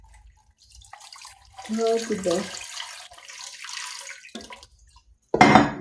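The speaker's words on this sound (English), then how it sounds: "I'll put just a bit of water" Water runs and splashes into a Ramtons electric pressure cooker in short pours, moderately loud and close, while someone talks intermittently.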